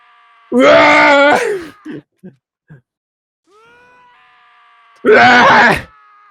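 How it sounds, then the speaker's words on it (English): A character in the video game Danganronpa lets out two loud, anguished screams, each about a second long, separated by a few short gasping sobs and a quiet pause. "As Taka's sad screams invaded our skulls"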